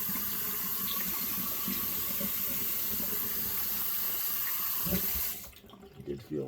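Tap water runs steadily into a bathroom sink for a rinse after a wet shave, a loud continuous splashing flow that cuts off near the end, leaving a few small splashes and drips.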